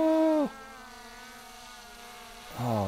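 A Skydio 2 drone buzzes in flight with a high, whining insect-like hum. It is loud at first, drops to a softer steady drone, then swells loud again with rising pitch.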